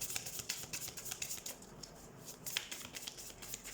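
Tarot cards being shuffled by hand, a soft, steady stream of riffling and flicking slaps, close but quiet, with no talking.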